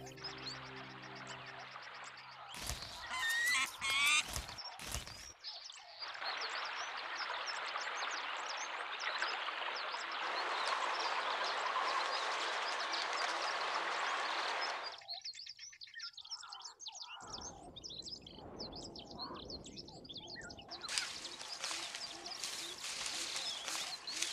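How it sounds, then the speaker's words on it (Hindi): Red-billed oxpeckers chirp and call in bursts against a rushing, stream-like background, with some stretches where the calling is dense and continuous. "लाल चोंच वाले ऑक्सपेकर पक्षियों की आवाज ने भैंसों के एक और झुंड के आने की सूचना"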